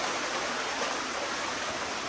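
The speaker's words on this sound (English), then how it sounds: "now we can hear lots of water as we come towards the end of this one" A waterfall pours inside an abandoned silver mine in the UK, giving a steady, loud rush of falling water that fills the chamber evenly, with no voices over it.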